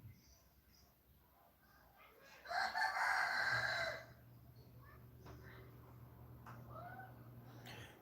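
A rooster crows once from a neighboring yard, a loud burst standing out over quiet ambient background, followed by faint chirps and a low steady hum.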